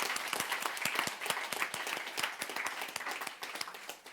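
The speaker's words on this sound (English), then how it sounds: "Ladies and gentlemen, round of applause for our experts." An awards-show audience applauds steadily, many hands clapping in a dense, continuous patter that holds at a fairly even level throughout.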